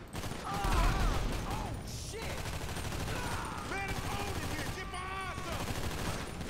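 AK-style Kalashnikov rifle fired in Grand Theft Auto V, several bursts of rapid automatic shots over in-game background sound and music, close and loud.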